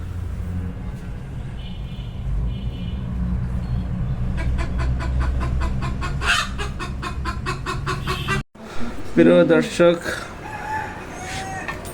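A hen about to be slaughtered at home clucks in repeated short bursts over a low background rumble, with a person speaking briefly near the end.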